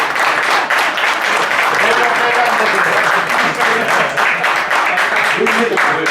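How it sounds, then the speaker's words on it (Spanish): A bar audience gives strong, dense applause at a poetry book presentation. The clapping is close and sustained for about six seconds, with some voices and cheers underneath. "bien merece el fuerte aplauso de todos los que estamos aquí."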